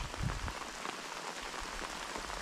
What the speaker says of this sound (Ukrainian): Капець який дощ.